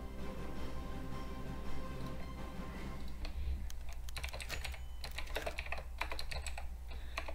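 Computer keyboard typing, a dense patter of clicks that grows busier and louder halfway through, over a steady low hum with no talk.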